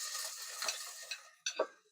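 Chopped tomato tossed into frying pork picadillo and stirred, with a few short scraping clinks of a utensil against the pan over a light sizzle, close and fairly quiet.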